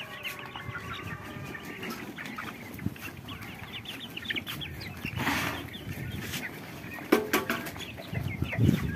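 Backyard roosters and rice-breed hens cluck and call continuously, with occasional louder squawks and wing flaps nearby on a rooftop farm, and no talking.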